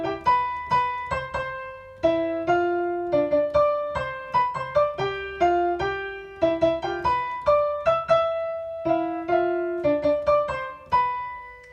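Piano playing a theme song: a bouncy melody of distinct plucked notes over a left-hand part, steady and clear for about twelve seconds, close and solo with no talking.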